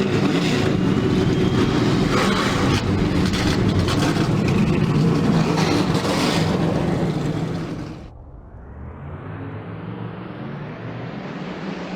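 Race car engines roaring together in the NR2003 racing game at Montreal, a dense loud low rumble that drops away sharply near the end to a thinner, rising engine whine.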